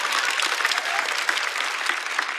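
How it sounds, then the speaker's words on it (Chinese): Audience applause at a stand-up comedy show, a dense, continuous burst of clapping heard close and fairly loud, with no talking over it. "掌声送给郑宇潇。"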